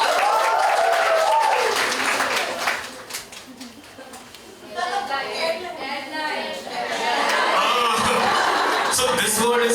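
Students in a hall applauding and cheering for a classmate at a student interaction event, loud clapping and crowd noise that dips midway with scattered laughter and murmuring, then swells again to full applause.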